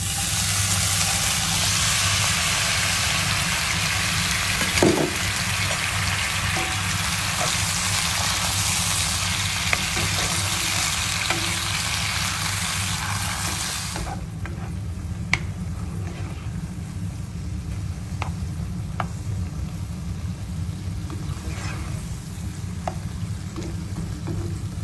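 Mushrooms frying in oil in a pan with rosemary, a steady close sizzle that drops sharply quieter partway through, leaving a soft simmer with occasional small pops.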